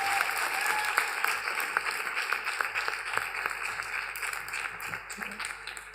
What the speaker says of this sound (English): Can we also give a round of applause to our moderators, Caroline Isa, Jing Zhang, Diva Harry Lela,